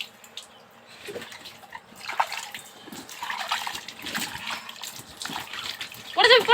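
A child splashes bathwater with irregular sloshing and dripping, close by, while an adult talks and coaxes throughout.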